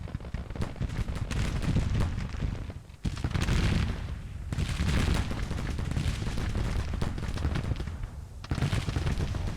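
Dense volleys of musket and rifle fire in a Civil War strategy game, continuous rattling gunfire with heavier booms, nearly unbroken except for a couple of short pauses.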